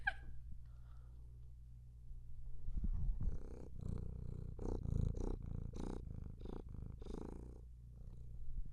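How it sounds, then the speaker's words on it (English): A cat purrs softly up close in a steady, rhythmic series of low rattling pulses, quiet and alone. "He's the loudest purr."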